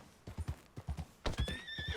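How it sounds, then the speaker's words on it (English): Horse in the video game Red Dead Redemption, its hooves clip-clopping in a steady rhythm close by, then a loud, drawn-out neigh near the end. "Esse cavalo aqui."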